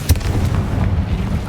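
A Confringo spell blast in Hogwarts Legacy lands as a deep, booming burst with a sharp onset, followed by a rumbling low tail that fills the short moment.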